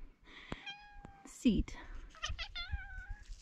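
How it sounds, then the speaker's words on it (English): Small cat meowing in a warm spot, several close, clear meows with rising and falling pitch, mixed with a person speaking softly nearby. "Look at that cute little cat."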